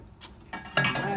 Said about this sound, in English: Get our plate setter in there.